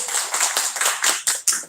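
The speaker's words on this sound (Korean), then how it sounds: "한번 박수를 다시 한번 드리겠습니다" A church congregation gives a round of applause, loud and close, the many hands forming uneven bursts and swells with a few sharp individual claps standing out near the end.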